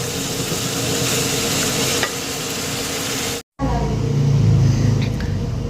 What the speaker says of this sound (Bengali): কড়াই আবার না ধরলে নাড়া যায় না